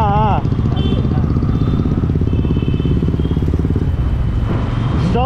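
A BMW S1000 RR motorcycle with its stock exhaust idles and revs nearby on a city street in Kolkata, a loud, continuous engine note with people talking over it.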